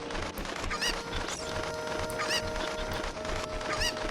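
Cucco chickens cluck and squawk in the video game The Legend of Zelda: Ocarina of Time. Several sharp clucks rise over a busy, continuous layer of game music and ambient sound.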